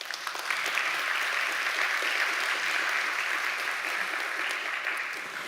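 Sustained audience applause fills a main auditorium at an internet governance conference, a dense, steady clatter of many hands clapping at even loudness throughout, easing slightly at the very end with no voices on top.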